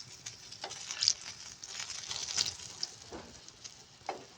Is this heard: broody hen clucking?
no